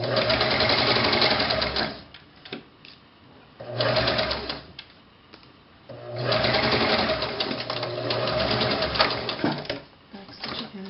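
Sewing machine stitching a ruffle onto pants, running in three loud close bursts of rapid mechanical chatter separated by short pauses, with a voice talking between the runs.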